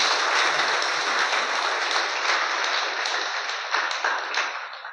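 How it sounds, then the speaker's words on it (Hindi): A crowd of students applauds loudly at a motivational school gathering, with sustained dense clapping filling the whole moment at steady volume, tapering slightly near the end. "तो मैं चाहूंगा कि एक बार आप लोग अपने लिए जोरदार ताली बजाओ"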